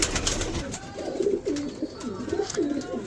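Pigeons coo repeatedly in a rhythmic series of low, rolling calls, fairly close, with a faint background hiss and no talking.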